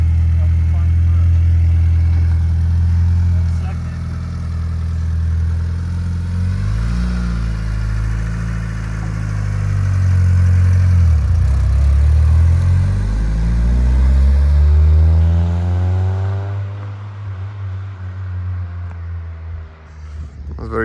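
The engine of a home-built Mitsubishi Eclipse styled after Fast and Furious revs loudly outdoors by a garage, a deep throbbing idle rising and falling through several sweeping revs, close and steady throughout, with voices faintly underneath.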